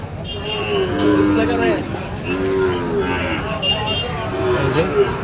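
Sahiwal bulls and other cattle moo loudly several times at a livestock market in Dinajpur, Bangladesh, long drawn-out calls over a crowd's chatter and background noise.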